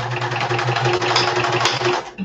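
A sewing machine runs continuously, stitching two layers of felt, with a close, loud buzzing whir that holds steady for a couple of seconds before slowing at the end.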